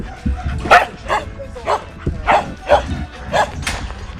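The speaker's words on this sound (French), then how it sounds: "C'est un chien qui est assez racé, qui a le museau très carré, petites oreilles." Dogs barking in a breeding kennel, a series of about seven sharp, close barks and yips spaced through the stretch with a low rumble beneath.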